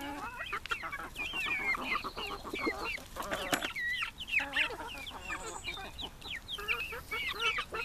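Several hens clucking and chattering close by in a henhouse, overlapping calls in an uneven stream with no talking.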